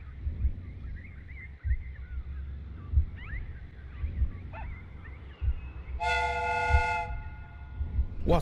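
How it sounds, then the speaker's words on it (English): A steam whistle sounds on a replica train in a Sherlock Holmes video game, one loud sustained harmonic blast lasting about a second over low rumbling machinery and scattered clanks. "The steam whistle is ready to be used."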